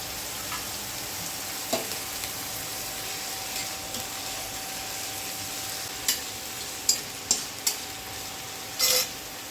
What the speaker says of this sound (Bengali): প্রথমে আমি এই তেলে বিনস আর ক্যাপসিকামগুলো ভেজে নেব